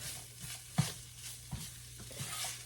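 Half a white sweet onion sautéing in a skillet, a soft continuous sizzle punctuated by a few quick spatula scrapes and taps.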